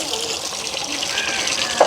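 Water gushes and splashes steadily while large cooking pots are washed outdoors in a village setting, with a brief metallic clank near the end.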